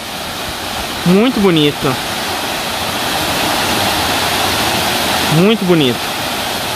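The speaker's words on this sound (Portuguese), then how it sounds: "É, aparentemente uns 10 metros mesmo a queda da água" A waterfall about ten metres high, with crystal-clear water, roars steadily and loudly nearby at Águas da Prata. A person speaks briefly twice over the constant rushing.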